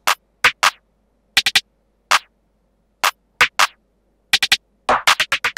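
FL Studio drum pattern of sharp claps and a snare with quick rolls, struck in clustered groups of two and three hits with gaps between, ending in a fast flurry; loud, dry and close, no voices.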